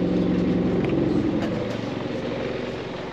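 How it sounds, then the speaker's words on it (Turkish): A sailboat's inboard engine motoring steadily, a loud continuous low diesel drone with a rhythmic throb, holding constant throughout. "Şimdi saat 7'den beri motor basıyorum."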